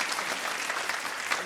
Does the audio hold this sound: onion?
no